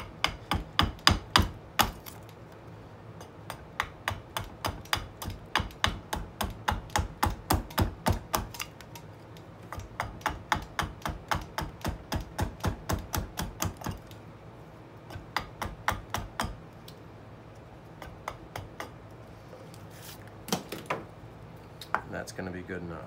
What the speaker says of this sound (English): So we will whittle this down a little bit at a time and then drop cut it.